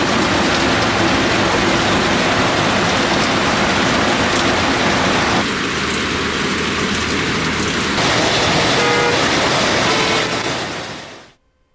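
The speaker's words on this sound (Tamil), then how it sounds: "அம்பத்தூர் ஆவடி சுற்று வட்டாரத்தில் 1 மணி நேரத்திற்கும் மேலாக கனமழை பெய்தது" Heavy monsoon-style rain pours steadily over a Chennai suburb around Ambattur and Avadi, a dense, loud, unbroken hiss and patter lasting several seconds before cutting off abruptly.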